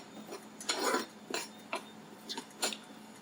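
Almonds are stirred in a really hot pan, a utensil scraping and rattling through the nuts in several short strokes with brief pauses between them.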